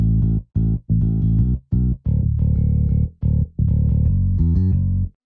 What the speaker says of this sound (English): So we've got a little bit of palm muting just to give it a little bit of a different feel